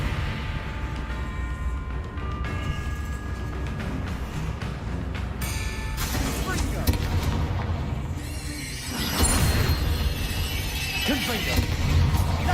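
Confringo and Depulsor spell blasts hit a spider in the Hogwarts Legacy video game, a run of booming, shattering bursts over a constant backdrop of game sound, with a voice talking throughout.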